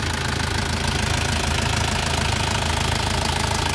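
A first-generation Isuzu Panther LV 2.5 diesel engine idles close by with a steady, even, rapid knocking pulse and no voices.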